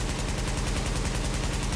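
The Caduceus rifle in the video game The Division fires a rapid, unbroken automatic burst, loud and close, each shot's sharp crack and low thump repeating at an even fast rhythm with no gaps.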